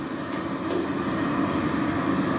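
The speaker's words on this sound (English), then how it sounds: "Another quiet hand dryer, only this one's non-automatic because it has a button to press." A quiet, non-automatic push-button hand dryer runs with a steady, even whoosh of airflow and a low hum, continuous and unchanging for the whole stretch with no talking.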